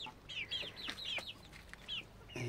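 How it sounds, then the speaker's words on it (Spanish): A rooster living with hens and newly hatched small-breed chicks gives a quick run of faint, high clucks and chirpy calls against a quiet farmyard background. "Es el gallo."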